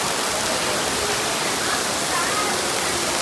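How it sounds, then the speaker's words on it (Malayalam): Heavy rain pours down outdoors near a small temple in Palakkad, a loud, dense, unbroken hiss filling the whole stretch without pause. "കാരണം നല്ല മഴയാണ്, നല്ല മഴ."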